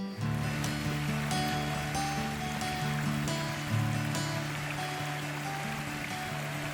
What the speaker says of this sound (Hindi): मानसून के दौरान झरने से गिरते पानी का शोर